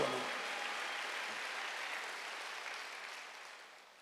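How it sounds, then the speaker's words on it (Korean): A church congregation at a Wednesday worship service applauding together, a dense wash of clapping that is fairly loud at first and gradually fades over a few seconds with no talking. "빨리 박수."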